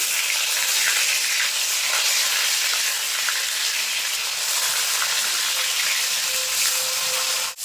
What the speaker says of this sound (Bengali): এবার মাছগুলো উল্টে দেবো। এক সাইড ভাজা হয়ে গেছে।